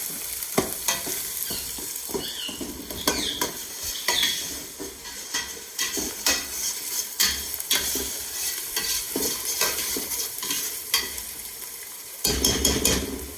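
Spices being stirred in a hot pot with a spoon, scraping and clinking against the metal over a steady sizzle of frying, continuous and close with no voices.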